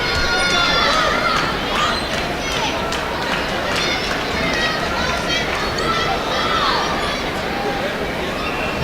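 Spectators on the sidelines cheer and shout encouragement during a preteen girls' ninja competition run, a steady babble of high excited voices carrying on without pause, with a few louder calls standing out.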